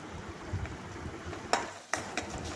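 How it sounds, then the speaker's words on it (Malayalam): Masala stirred through hot oil in a pan for egg curry, a low steady sizzle with a few sharp scrapes and clicks of the spoon against the pan near the end, close and moderately quiet. "ഇതൊക്കെ ഒന്ന് നമുക്ക് നന്നായിട്ടൊന്ന് ഇളക്കി കൊടുക്കാം മസാലേൻ്റെ പച്ച സ്മെല്ല് മാറണ വരെ ഒന്ന് ഇളക്കി മൂപ്പിച്ചെടുക്കാം"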